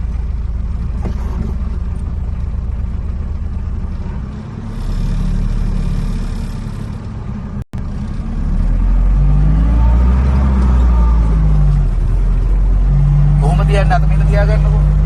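A car engine idles and then revs during a driving lesson, with a steady low hum rising into a couple of longer revs near the end, under near-constant talk between instructor and learner.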